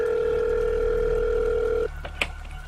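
Telephone call tone used as a sound effect in a radio story: a steady electronic tone sounds alone for almost two seconds, then stops, followed by a couple of faint clicks and a brief beep.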